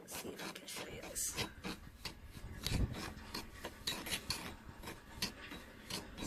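A magnesium sulfate bolus being mixed by hand, with a gritty scraping and rasping like wet sand, in repeated strokes close by.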